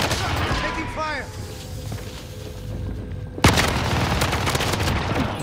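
Bursts of video-game gunfire during a multiplayer shooter match, with a sharp loud shot partway through followed by more dense firing, while players talk over it.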